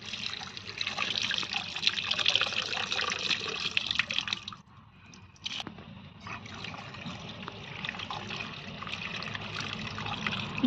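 Karonda fruit is washed under running water: a close, steady splashing trickle that briefly drops away partway through, then resumes at the same level.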